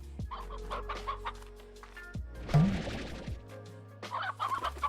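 A rooster in the Slime Rancher video game clucks in short bursts over a droning game soundtrack, with a louder, throaty squawk partway through.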